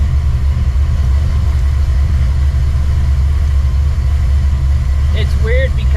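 A cammed, procharged 1999 Mustang GT idles while warming up, a close, steady low rumble with a choppy lope that holds level throughout, with a brief faint squeak near the end.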